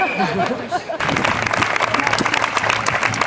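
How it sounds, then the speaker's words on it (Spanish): Applause breaks out at a charity festival celebration in Asturias, dense clapping starting after a second of live talk and continuing loud and steady, with crowd voices and laughter mixed in. "Aplauso para David."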